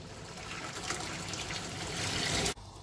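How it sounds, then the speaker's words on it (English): Water pours steadily from a kettle into a cooking pan for boiling rice, a loud continuous splashing trickle that stops abruptly near the end. "Add some more water with the help of our friendly kettle."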